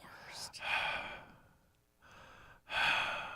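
A voice imitating heavy breathing on a morning radio show: two loud, drawn-out breaths close to the microphone, separated by a short pause.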